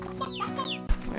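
Roostros and hens in the video game Slime Rancher cluck and chatter close by, a quick run of several bright, rising calls with a soft thud near the end.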